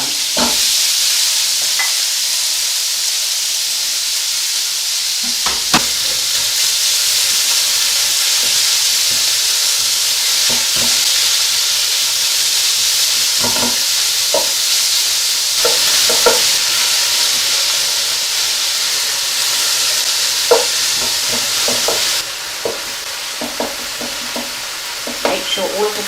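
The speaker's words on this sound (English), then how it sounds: "now I'm going to put half of my mince into the pan" Beef mince browns in olive oil in a hot pan, a steady close sizzle and hiss with occasional scraping and stirring clicks throughout.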